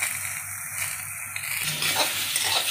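Sliced pointed gourd fries in a pan with turmeric and salt, a bright continuous sizzle with scraping stirs that grow busier toward the end, close and without talk.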